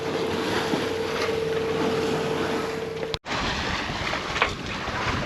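Steady rushing wind and water noise as a sailboat pitches and slams through waves, a brief dropout near the end, no voices.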